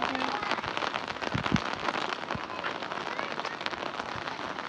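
Rain patters in a Punjabi village under heavy clouds, a steady crackly hiss of drops on surfaces with a few sharper taps, fairly close and continuous.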